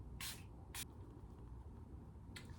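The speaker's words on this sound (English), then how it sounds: "I'll go in with the Milani Make It Last Setting Spray" Milani Make It Last setting spray misted from a pump bottle: two quick hissing bursts close together, then a third after a pause, crisp and close over a quiet room.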